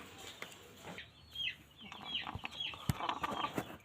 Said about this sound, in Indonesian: Ayamnya ini guys, pilek, ngorok